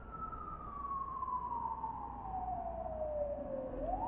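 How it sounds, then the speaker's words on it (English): A single siren wails faintly in the distance, holding a long descending tone before rising again, with no talk over it. "you do start to hear sirens"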